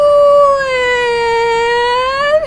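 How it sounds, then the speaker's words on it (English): A single siren wails in one long, steady tone, loud and close, sliding slowly downward and then rising sharply at the end. "the siren is encouraging you to do it"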